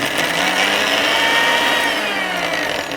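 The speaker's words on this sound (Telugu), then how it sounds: "మధ్యలో ఒకసారి కలిపి మళ్ళీ మిక్స్ చేద్దాం" Kitchen mixer grinder running again on a small batch of paneer pakora batter after a stir, a steady loud high-pitched motor whine with slight pitch wavering throughout.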